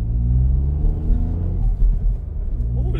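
Ford Fiesta ST mk8 engine under light acceleration, a steady low rumble with a faint rising drone heard from inside the car, loud and continuous.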